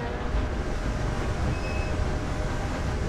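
Train running in a Wild West video game: a steady, loud rumbling roar of rolling wagons with faint clatter, continuous and unchanging with no voices.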